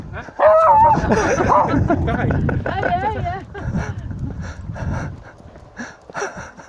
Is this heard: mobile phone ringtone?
no